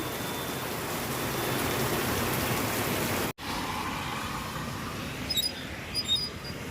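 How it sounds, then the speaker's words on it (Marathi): Heavy downpour at the Savarde bus stop near Chiplun market pours as a dense, continuous hiss, broken by a sharp dropout midway before the rain resumes, with faint squeaky chirps near the end. "भयंकर पाऊस आहे"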